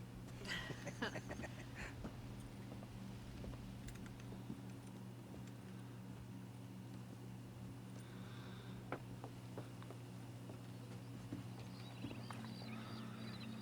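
Horse hooves clip-clop during horse breaking in the Red Dead Redemption video game, a string of light clopping steps over a low steady hum, fairly quiet, with faint neighing and game ambience.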